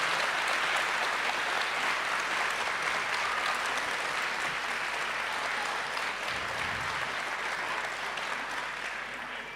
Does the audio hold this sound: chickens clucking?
no